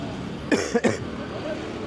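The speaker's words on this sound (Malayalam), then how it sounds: "ചുമ ചുമ ചുമ ഫുൾ പൊടിയാണ്" A person on a road at night coughs twice in quick succession, close and fairly loud, irritated by heavy dust, with faint background noise around the short bursts.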